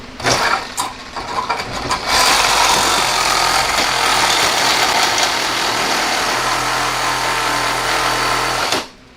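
Makita MAX CXT lithium-ion cordless reciprocating saw cutting through thick material clamped in a small vise, a loud continuous buzzing rasp that starts with a few short bursts, runs steadily for several seconds, then stops abruptly.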